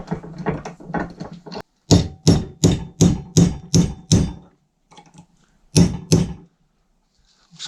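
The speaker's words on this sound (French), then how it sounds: "je vais venir taper avec le burin là-dessus." A hammer drives a chisel against a metal support in a run of sharp, evenly spaced metallic strikes, loud and close, followed by a brief pause and two more blows.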